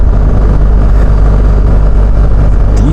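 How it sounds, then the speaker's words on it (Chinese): BMW R 1300GS motorcycle riding at speed while shifting gears with its quickshifter, a loud, constant engine drone mixed with heavy wind rush and no distinct shift breaks. "我现在在使用它的快排进行换挡"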